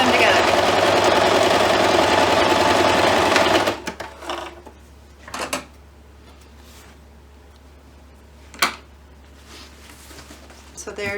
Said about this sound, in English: put on my machine, get my foot in place here, and stitch them together